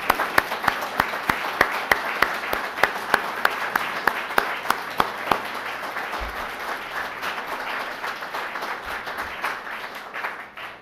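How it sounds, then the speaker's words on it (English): An audience at a university research awards ceremony gives a professor a sustained round of applause, with sharp individual claps standing out early before the clapping thins and fades toward the end. "Now let's give Professor Wang a final round of applause."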